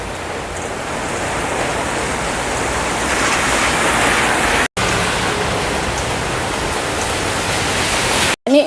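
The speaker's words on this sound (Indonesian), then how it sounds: "Hujannya wes nggak begitu deres" Steady rain falling outdoors on the way home from a market in a lighter shower, a dense continuous hiss filling the whole stretch with two brief dropouts, no voices.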